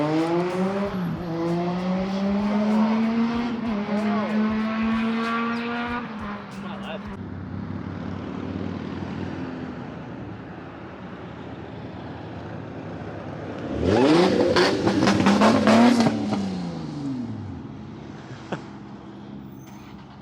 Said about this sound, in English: I might rev it and get Shahan to film